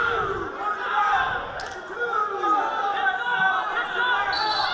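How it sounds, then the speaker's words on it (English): Coaches and spectators shouting at a Big Ten college wrestling match, 141-pound bout between Michigan and Wisconsin; a loud, continuous wash of overlapping yelling voices from the crowd filling the arena. "The coaches or a crowd or someone out there is calling for 2"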